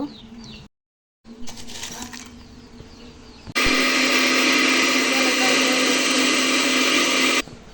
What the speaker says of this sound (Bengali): এখন আমার কাজ হচ্ছে আমি মশলাটা ব্লেন্ডার করে নেব